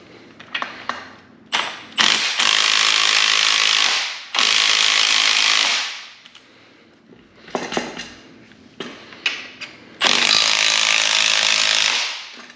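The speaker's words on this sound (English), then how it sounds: "tightening the spring compressor side by side" A spring compressor is cranked tight on a car strut in bursts, each a rapid run of ratcheting clicks lasting one to two seconds, close and loud, separated by short pauses.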